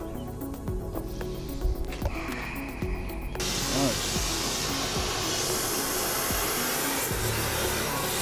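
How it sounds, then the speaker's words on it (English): A steady, loud roaring hiss of a cutting torch flame heating a Mondeo MK3 hub kicks in after a few seconds of clanking and handling noises, then holds continuously. "we're going to try a cutting torch"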